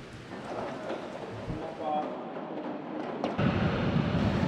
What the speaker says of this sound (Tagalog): patuloy ang pagbuhos ng ulan at pag-ihip ng napakalakas na hangin dito sa may Batangas Port